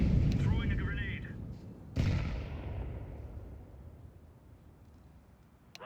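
A video game firefight with a heavy grenade blast booming at the start and a second sharp explosion shortly after, each rolling into a long fading rumble, with a voice calling out over the noise.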